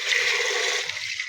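Water from a tap pours into a bucket at a school, making a steady, close, hissing rush with a light splashing texture and no talk.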